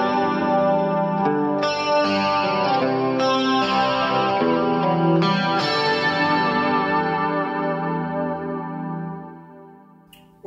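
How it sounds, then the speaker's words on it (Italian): Clean 1980s-style electric guitar through a Kemper amp with stereo delay and stereo chorus, ringing chords and arpeggiated notes in a rock setting, bright and shimmering with echoing repeats, played alone and fading out at the end. "è un delay stereo, così come anche il chorus è stereo"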